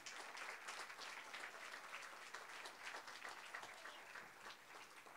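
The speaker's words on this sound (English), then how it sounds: "Let's give a huge round of applause for these leaders" An audience at an annual membership meeting applauds its committee leaders, a dense, steady wash of many hands clapping for several seconds, heard faintly and with no voices over it.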